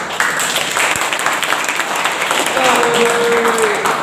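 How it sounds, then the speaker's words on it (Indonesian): An audience claps steadily throughout at the opening of a 2020 campus workshop, with a voice talking over the dense applause and a faint tone near the end. "Tepuk tangan Mas Dijo."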